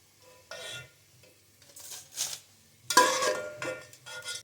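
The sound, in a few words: onions frying golden in a pot for degi korma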